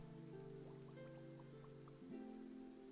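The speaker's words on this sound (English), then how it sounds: "Oh, it started to rain." Rain falls in the video game Genshin Impact, a soft, faint patter of drops beneath sustained musical tones that shift pitch about two seconds in.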